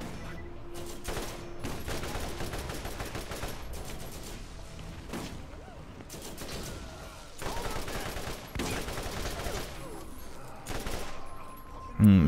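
Gunfire rattles through a Borderlands firefight on PC as enemies shoot, with repeated bursts of automatic fire and rapid single shots amid game noise, steady and moderately loud, ending in a sharp thump.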